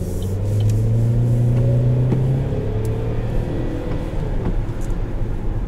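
A 2011 Saab 9-5 Turbo4 with 250,000 miles accelerates from inside the cabin, its engine note rising in a steady drone under road rumble, loud and continuous.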